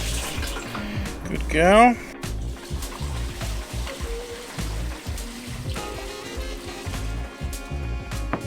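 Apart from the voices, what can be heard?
water poured to wash product into basket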